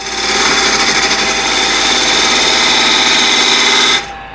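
A 1/2 inch spindle gouge cuts into a spinning wood bowl on a lathe, making a loud, steady scraping hiss that continues without a break for about four seconds and then stops suddenly.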